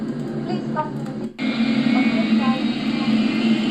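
Loud, steady jet engine roar fills the cabin after a sudden jump in level, with a few muffled voice fragments earlier.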